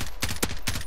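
Rapid gunshots fired at an enemy in a shooter video game, three or four loud sharp cracks in quick succession, close and without talk.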